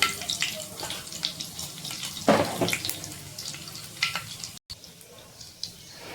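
Cumin seeds hitting hot oil in a pan, a close, uneven hiss with one louder burst of sizzle midway and a brief dropout near the end.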